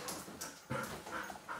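A female dog whimpers softly and pants in short, quiet bursts, close by and with no voices over it.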